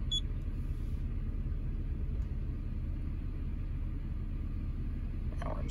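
A Chrysler car under transmission test pulls steadily in second gear, a continuous low engine and road rumble holding even and fairly close throughout with no voices.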